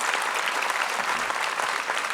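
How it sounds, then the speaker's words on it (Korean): Audience at a church peace-and-unification prayer rally in a hall at the War Memorial in Yongsan, Seoul, applauding to welcome a pastor, a steady dense clapping throughout, moderately loud and without speech. "Please welcome him with a big round of applause."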